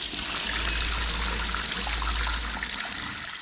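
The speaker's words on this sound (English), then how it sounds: "Using the forward head or turning the water pressure pump on, use the head, and we'd be losing water back here" Water rushes steadily back through a sailboat head's plumbing while the water pressure pump runs, a loud close hiss and gurgle with a low pump rumble underneath that fades slightly near the end.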